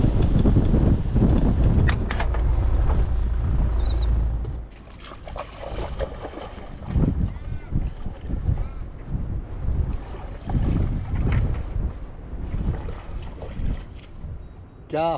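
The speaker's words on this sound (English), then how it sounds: "I might have to go around the other side to get out the wind" Strong wind buffets the microphone at a fishing spot near Walpole, with loud roaring gusts at first that ease into steadier, lighter blowing.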